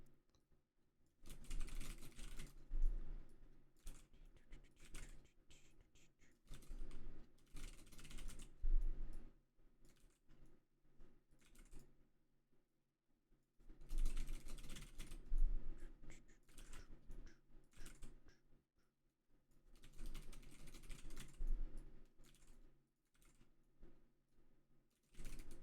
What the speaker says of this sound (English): It's just a lot of typing.